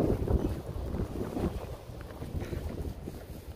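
Strong winter wind roars steadily into the microphone during heavy snowfall in Winnipeg, a dense continuous low rumble with no voices.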